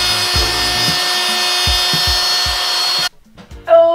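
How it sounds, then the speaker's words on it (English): A router cuts into timber for an IKEA FLISAT stool with a steady, close, loud whine and repeated low thuds as it bites the wood. It stops abruptly, then a short clatter and a brief higher buzz follow. "But I'm just gonna cut a little bit of this timber out."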